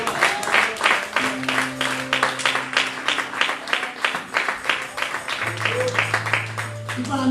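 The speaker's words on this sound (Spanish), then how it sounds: "Denle un fuerte aplauso, señores." A church congregation claps in a rhythmic, pulsing applause, individual claps distinct and evenly spaced, mixed with voices and a sustained musical tone underneath.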